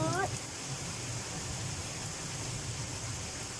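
Steady rain pours down during a storm in Denmark, a continuous soft hiss at low level with a brief voice at the very start.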